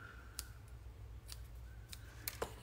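Scissors trimming petal pink baker's twine at a papercraft table, giving a few quiet, crisp snips and clicks spaced irregularly over a low background hum.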